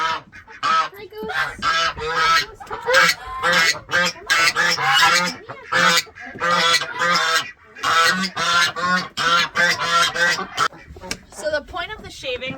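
A goose honks loudly and persistently at close range in a backyard coop, its harsh calls coming in rapid, overlapping bursts with barely a pause.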